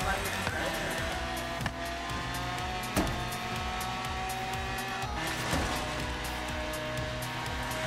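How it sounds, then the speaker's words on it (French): Powerful car engine revs and tires squeal repeatedly in Forza Horizon 3 on Xbox One S, with a loud, sustained whining drone punctuated by sharp skids and accelerations. "ça se voit que j'ai pas l'habitude de conduire les voitures puissantes comme ça"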